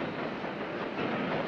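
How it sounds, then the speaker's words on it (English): Steady broadband rumble of a train in motion, a continuous dense rolling noise without talk, growing slightly louder toward the end. "Signori Carrozza, train is leaving."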